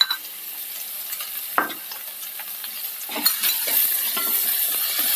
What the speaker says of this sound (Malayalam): ഒന്ന് വഴറ്റിയെടുക്കാം. ഈ വെളുത്തുള്ളിയുടെയൊക്കെ പച്ചമണം മാറിയിട്ടുണ്ട്.